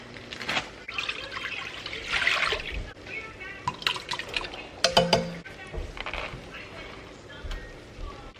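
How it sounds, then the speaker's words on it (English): Water is poured into a pot holding opened canned tomatoes and corn for black bean and corn chili, trickling and splashing in uneven bursts while a person talks over it. "get these tomatoes open and poured into this pot with the corn and 3 cups of water"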